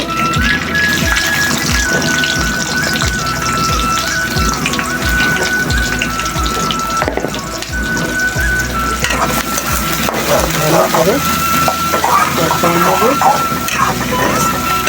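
Onion frying in hot oil with cinnamon, cardamom and cloves, a steady crackling sizzle with occasional stirring clicks, close and continuous.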